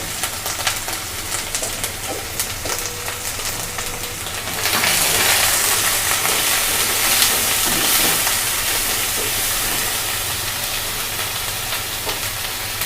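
Garlic paste and chili paste hit hot oil in a frying pan. A bright, steady sizzle rises sharply and keeps hissing loudly, close up.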